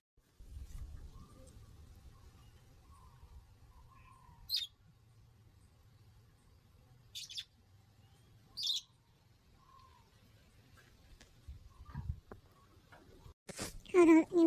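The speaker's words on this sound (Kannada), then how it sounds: "ಹಕ್ಕಿ ಪಕ್ಕಿ ನೋಡಲ್ಲ ಎಷ್ಟು ಚಂದ ಚೂ ಚೂ ಚೂ ಚೂ ಅಂತ." Cartoon birds in a village comedy cartoon chirp in short, separate bursts over a quiet background, with voices talking toward the end.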